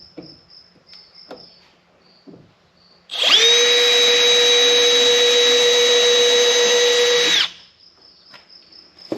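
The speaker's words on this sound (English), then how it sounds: "So, drill a little pilot hole first." A power drill whines steadily at high speed for about four seconds, drilling a pilot hole into a shed wall, loud and close, with quiet background noise before and after.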